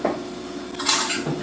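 A fork and other cutlery handled on a table beside cooked brined and unbrined birds, giving a short close clink and scrape of metal on dishes, with no talking.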